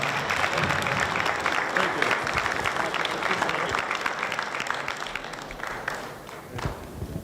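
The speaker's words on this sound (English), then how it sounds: "Round of applause for Charlie Mcbride, everybody." An audience at a borough commission meeting gives a sustained round of applause, dense and even, tapering slightly toward the end, with voices faintly mixed in.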